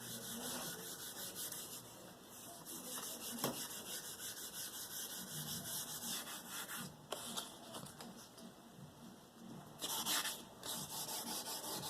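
Fine-grit wet sanding on a cheaply painted guitar body produces soft, steady rubbing and swishing strokes, fairly faint and close, with a few small knocks along the way.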